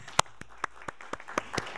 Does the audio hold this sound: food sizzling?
no